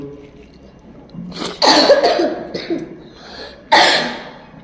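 A child at a meal of rice and new-potato curry coughs in two harsh, close bursts, the second short and sharp, with quiet household background between them.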